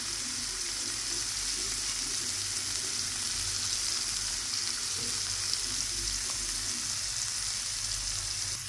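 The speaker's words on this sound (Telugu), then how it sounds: "మసాలా పెట్టాను కదా, దాన్ని తిప్పించుకొని కొంచెం మళ్ళీ నూనె వేసుకోవాలా. బాగా ఫ్రై అయ్యే వరకు వేయించుకోవాలా." Pomfret fish coated in masala frying in oil in a pan, a steady, close hiss and sizzle that holds evenly throughout with faint stirring.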